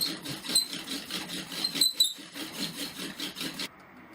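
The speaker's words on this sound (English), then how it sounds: "So and here it is one-handed." A hand-powered pump drill is worked one-handed into wood, giving a steady rapid rasping whir that pulses with each up-and-down stroke, close and fairly quiet, stopping abruptly near the end.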